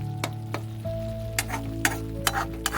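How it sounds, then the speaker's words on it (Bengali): Spices sizzling in a pan while fish curry cooks at a camp near Hundru Falls, a steady close frying hiss punctuated by a few sharp stirring clicks, with no talk. "মশলা কষানো চলছে।"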